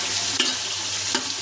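Onions fry on a high flame with a steady loud sizzle, while a spoon stirs them in two brief scraping bursts. No one speaks.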